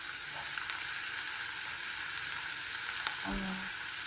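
Minced pork fries in a pan with a steady, soft sizzle, broken by a few faint clinks of a utensil near the end, and no talking.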